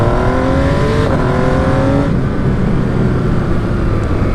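An MV Agusta Brutale 800 motorcycle engine revs hard while riding, a loud rising howl that climbs then drops with a gear change, wind noise underneath and no talk.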